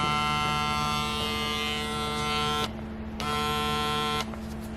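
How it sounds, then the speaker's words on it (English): Gamma+ Ergo hair clipper runs with a steady high-pitched electric buzz, cutting off briefly and then switching back on with the same even drone. "I want to do a sound check and a little comparison versus another clipper"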